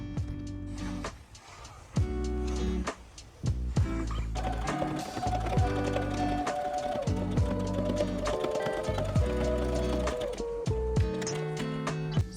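Sewing machine stitching the side seams of a bathrobe, close and fairly loud, running in several bursts of rapid mechanical whirring with brief pauses between them.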